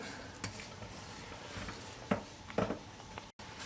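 Cheesecake batter for a chocolate banana cheesecake being scraped around a mixing bowl, a few soft separate scraping strokes over a quiet background.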